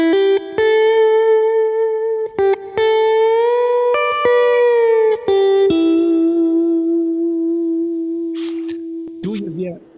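Electric guitar played through its original amp rings out as a sequence of clean sustained single notes and chords with a chorus-like shimmer, each note struck crisply and left to ring, then fading as a voice begins at the end.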